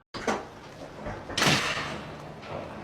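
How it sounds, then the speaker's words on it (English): Kevin Magnussen slams a door after the 2019 British Grand Prix: a sharp bang followed by a heavier crashing impact, close and loud over a noisy, reverberant background. "Magnussen slammed his door"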